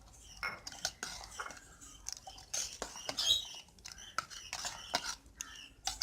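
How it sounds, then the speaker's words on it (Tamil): Spoon scraping and clinking against a bowl while fruit custard is stirred together with red banana, a quick irregular series of close, light taps and soft wet patters, with no talking. "இப்போ இது எல்லாம் நல்லா கலந்துட்டுக்கலாம்."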